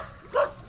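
A dog barks once near a house outdoors, a single short, moderately distant bark over low background noise.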